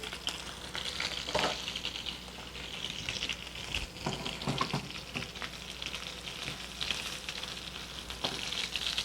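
Chicken with rosemary fries and browns in a pan, giving a steady, busy sizzle and spatter that holds its level for the whole stretch, with occasional clicks and scrapes of stirring.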